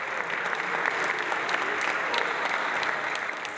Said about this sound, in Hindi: ताली बजाओ भाई भैया के लिए